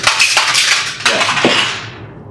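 A protein shaker bottle with a mixer inside is shaken hard, making a dense, loud run of clattering, rattling knocks with a brief break partway through and no voices.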